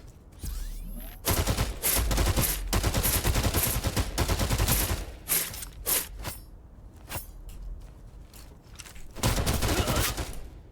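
Powerful weapon fire in a video game, loud sustained bursts of rapid gunshots in several long volleys separated by brief pauses, heard with no talking.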